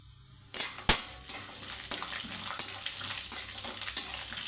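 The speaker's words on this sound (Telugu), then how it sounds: "తాలింపు అయితే వేగాలండి" Chana dal, urad dal, peanuts, cashews and cumin frying in oil over a low flame for a tempering, with a soft steady sizzle broken by sharp metallic clinks and scraping as a spoon stirs the pan.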